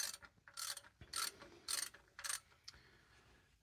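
A ratchet wrench loosens the differential fill plug on a 2021 Jeep JL, with several quick bursts of close, crisp ratcheting clicks separated by short pauses in an otherwise quiet space.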